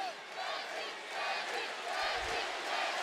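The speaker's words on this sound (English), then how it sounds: "The crowd chant Deji." Boxing arena crowd at a YouTuber fight chanting together, a dense, steady wash of many voices with a rhythmic swell, heard alone without commentary and a brief low thump near the end.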